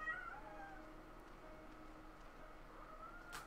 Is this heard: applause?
no